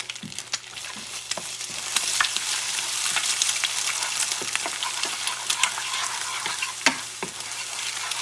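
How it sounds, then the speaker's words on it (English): An egg fries in olive oil over high heat, giving a steady crackling sizzle with sharp pops and spits scattered throughout, fairly close and with no talking. "Real quickly start frying that egg."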